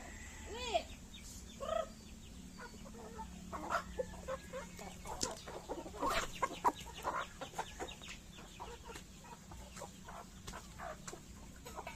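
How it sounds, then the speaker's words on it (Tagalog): Chickens cluck and call on a farm, a scattering of short clucks and squawks, moderately near, coming in bursts over quiet ambience with faint voices in the background. "Nakauwi yung ibang manok."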